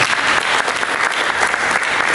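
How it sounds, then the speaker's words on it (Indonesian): Loud, dense applause from a church congregation, continuous clapping filling the whole stretch without a break. "Berikan tepuk tangan bagi Yesus."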